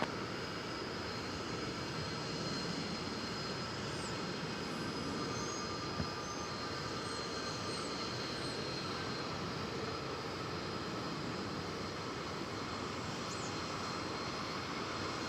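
A Frontier Boeing 737 takes off from runway 18 Left at DFW Airport, a steady, sustained broadband jet roar that holds level throughout with no speech.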